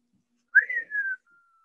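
A single short whistled phrase, a bright rising note that slides down and trails off, imitating a bird's call, clear and alone in quiet.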